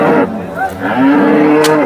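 A dairy cow moos at a busy Indian cattle market, giving a long, loud bellow close by that fills most of the clip against the crowd's background murmur.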